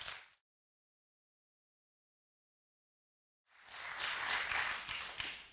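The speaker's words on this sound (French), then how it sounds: "on peut applaudir" An audience at an ESR label award ceremony bursts into loud, sustained applause after a brief burst at the start and about three seconds of silence, the clapping filling the rest of the moment.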